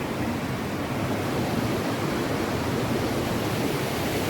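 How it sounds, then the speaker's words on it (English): Mountain stream tumbling down as a waterfall on the Rupin Pass trek, a steady, dense rushing roar that fills the whole stretch with no pauses and no voices. "I would consider this a waterfall"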